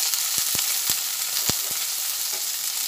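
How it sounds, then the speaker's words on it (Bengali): Okra frying with turmeric in a pan gives off a dense, loud, continuous sizzle, with a few soft knocks and taps from a spatula stirring it, close by and with no voices. "হলুদ দেওয়ার পরে ভালোভাবে একটু নাড়াচাড়া করে নিচ্ছি"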